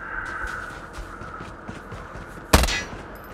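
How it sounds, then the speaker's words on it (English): Gunfire in Call of Duty Mobile, with faint distant shots scattered in the background and then one loud, sharp close shot near the end. "Is that me shooting or somebody shooting at me?"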